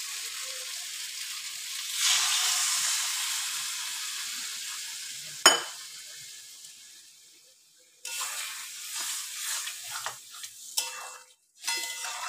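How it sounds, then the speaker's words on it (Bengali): Water poured from a bowl into frying spice paste for a fish-head vegetable dal, giving a broad steady sizzle that swells and fades, a sharp clink midway, then softer bubbling and scattered stirring clicks. "এবার এতে আমি এক বাটির মতো জল দিয়ে দেবো।"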